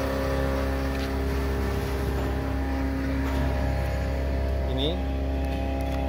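A petrol engine drives a 2 HP supercharger aerator at a biofilm tilapia pond, a loud steady droning hum with a constant pitch, running continuously under a man's speech.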